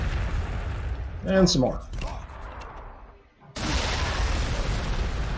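Frag missile explosions in the strategy game Warhammer 40,000: Sanctus Reach land as a dense, sustained roar of blasts that rises sharply partway through, after a stretch where a voice talks over quieter battle noise.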